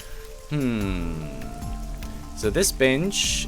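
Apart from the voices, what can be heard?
rain in the video game AI: The Somnium Files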